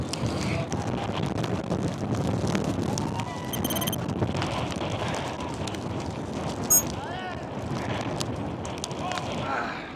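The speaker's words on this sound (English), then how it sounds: "The wind is gusting up to 120 kilometers an hour" Strong gusting wind buffets the microphone in a harsh, cold setting, a loud, continuous broadband roar that swells and surges throughout, with faint voices mixed underneath.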